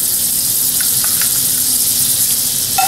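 Compound butter sizzles at the bottom of a pan heated only by residual warmth, the burner off: a steady, fairly loud broadband hiss with a few faint pops, continuous and on its own without any talking.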